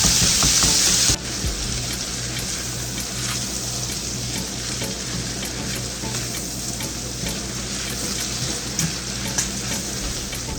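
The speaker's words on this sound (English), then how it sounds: "You just really want to saute these." Cabbage and vegetables sautéing in a pan on a stove over low heat, a steady close sizzle with faint stirring scrapes running throughout.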